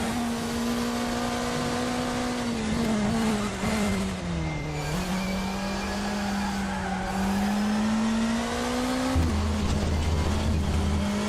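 In a racing video game, car tyres squeal continuously as they break traction through a turn, the drawn-out screech wavering in pitch over a steady engine drone, loud and close with no talk.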